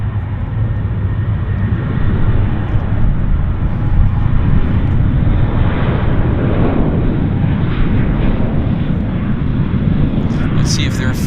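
A WestJet or Air North airliner on its takeoff roll at Vancouver airport, a steady broadband engine roar that holds loud throughout with faint rising tones near the end, under occasional talk.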